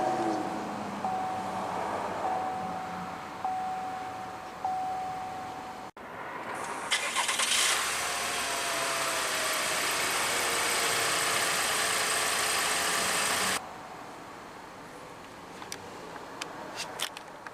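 A 2017 Cadillac XT5 Premium Luxury crossover fires up with a push-button start: a sudden loud surge of the engine catching, then a steady, even idle that drops away abruptly after several seconds into quiet room noise.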